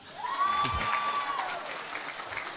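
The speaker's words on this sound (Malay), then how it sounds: "Tepuk tangan." An audience at a Perikatan Nasional political launch applauds, a moderate steady clapping with a crowd murmur, while a voice briefly sounds over it.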